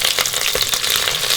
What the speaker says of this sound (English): As soon as the oil is getting hot, which it is now, you put the jeera seed first